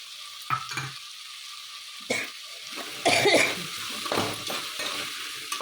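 Vangi bath powder fries in a pan with a soft, steady sizzle, broken by a few stirring scrapes and a cough, close by and fairly quiet.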